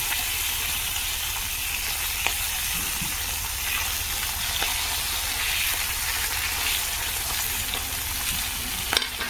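Fali fish frying in hot oil gives a steady, close sizzle with constant bubbling hiss and a few faint clicks, running alone for the whole stretch.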